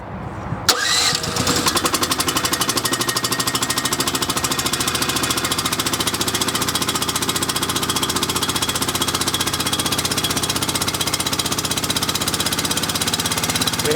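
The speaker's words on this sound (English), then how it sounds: "We have the engine started." Engine of a Marathon Equipment mastic mixer starting up, then running at a fast, steady chattering rhythm, loud and close, without talk for the whole stretch.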